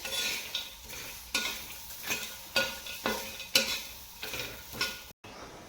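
Green chillies, garlic and peanuts dry-roasting in a pan without oil, stirred in a steady rhythm of scraping strokes over a soft sizzle, close by and with no voices.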